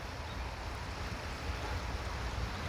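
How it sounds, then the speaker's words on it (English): Outdoor water flowing steadily in the early morning, a continuous broadband rush with a low rumble, likely wind on the microphone, holding an even level throughout with no talking. "just hearing that water flow early in the morning"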